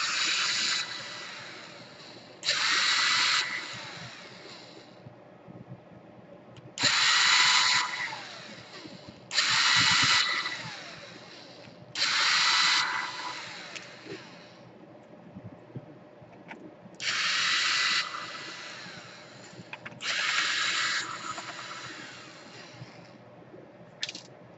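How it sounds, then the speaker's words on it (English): Repeated bursts of a small electric screwdriver backing out screws from a Dell Inspiron P39F laptop during a power jack repair, with about seven loud whirring runs separated by short pauses, close up and with no talking. "Let me unscrew all the other screws"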